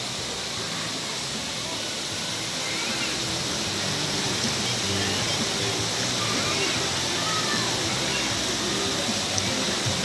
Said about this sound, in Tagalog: Agos lang ng agos ang tubig.